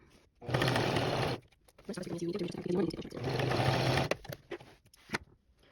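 Sewing machine stitching a 1/4 inch seam along a waistband strip, two steady motor runs of rapid needle chatter separated by a brief pause, close and clear with no talk.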